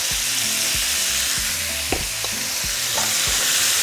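Beef browning in hot oil gives a loud, steady close sizzle with repeated low scraping stirs throughout and no voices.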